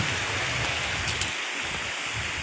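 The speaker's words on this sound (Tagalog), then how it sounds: "Sapa yan." A countryside stream flows at night as a continuous, fairly loud rushing hiss, heard alone without voices.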